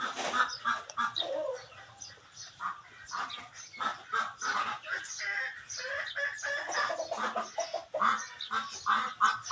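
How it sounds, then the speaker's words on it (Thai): A flock of ducks quacks continuously nearby, choppy overlapping calls mixed with other poultry noises, fairly faint. "มีเสียงเป็ดแน่"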